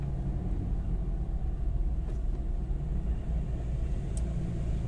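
A Ford Ranger engine, held to 2000 RPM by a fault, gives a steady low rumble throughout with no clear rise in revs, nearby and without talk.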